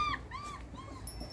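Puppies out in a garden for the first time whimper and yip with thin, rising and falling whines, several overlapping in quick succession, close by and fairly soft.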